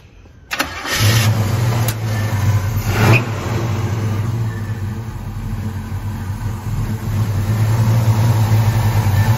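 A 1966 Chevrolet Chevelle convertible's engine cranks briefly, fires up and settles into a steady, rumbling idle, loud and close throughout.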